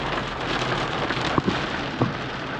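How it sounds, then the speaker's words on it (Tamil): Heavy rain pounds steadily on a car driving along Yercaud Loop Road, a dense close patter with a few sharper drops striking the body, with no voices. "அப்பா செம்மையா மழை பெய்யுது."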